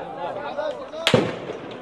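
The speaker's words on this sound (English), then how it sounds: "جيش الاحتلال يطلق النار على الوفد خلال تواجدنا، يطلق النار بشكل مباشر" A single sharp, loud crack of gunfire from Israeli forces in Jenin cuts through, followed by a short echoing tail, while people's voices murmur underneath.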